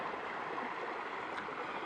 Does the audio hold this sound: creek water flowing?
yes